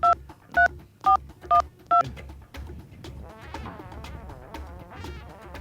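Five short telephone keypad tones beep in quick succession, followed by a faint buzzing hum and low background noise.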